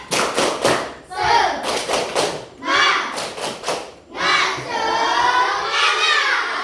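A school class does a rhythmic spirit clap, tight groups of loud, patterned claps alternating with children's voices chanting together, close and energetic in an indoor classroom.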